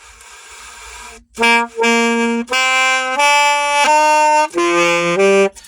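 Saxophone played with puffed-out cheeks gives a short run of sustained notes with a breathy, diffuse, unfocused tone; a soft airy hiss comes before the first note.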